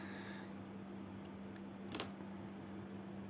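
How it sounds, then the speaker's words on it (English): Scissors cutting yarn while finishing a crocheted blue bell coaster: a single quiet, crisp snip over a steady low hum in a calm room. "Then we will cut our yarn"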